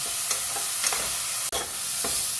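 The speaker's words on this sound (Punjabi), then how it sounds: "ਟਮਾਟਰਾਂ ਨੂੰ ਚੰਗੀ ਤਰ੍ਹਾਂ ਭੁੰਨ ਲੈਣੇ" Chopped tomatoes, with onion and a ginger and green chili paste, are roasted in a hot pan for an aloo baingan dish. A steady, close sizzle runs throughout, broken by repeated scraping stirs of a spatula.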